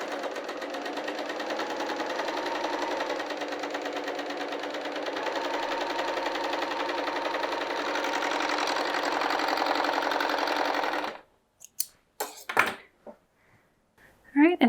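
A serger overlocker cuts and stitches fabric with long floats, humming in one long, loud, steady run for about eleven seconds, then stopping, followed by a few scattered handling clicks and knocks.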